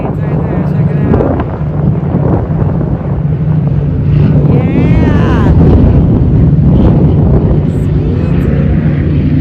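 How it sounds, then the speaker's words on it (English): Airplanes fly over Lake Havasu, a steady loud engine roar that fills the whole clip, mixed with wind buffeting the microphone and someone speaking briefly close by. "Oh, some more planes right there."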